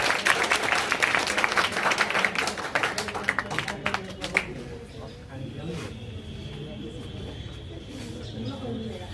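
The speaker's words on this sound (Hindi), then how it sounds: "एक जोरदार ताली" A class of students gives a burst of loud applause for a selected student at a mathematics coaching class, many hands clapping together for about four seconds before it fades under a speaking voice.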